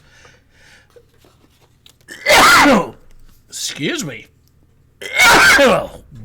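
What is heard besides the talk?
sneeze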